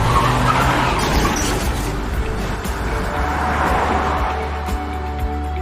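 An animated car skids through a U-turn and rolls over, with a continuous loud tire-scrubbing roar and rumble lasting several seconds, close and unbroken.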